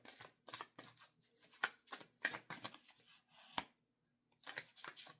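Tarot cards shuffled by hand in repeated quick riffling bursts, close and crisp, with brief pauses between bursts and no talking.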